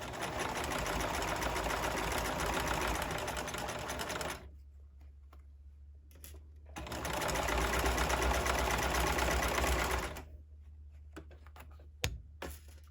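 A sewing machine stitches a seam with backstitching, running in two long steady bursts of rapid mechanical whirring separated by a quiet pause, then a few brief clicks near the end.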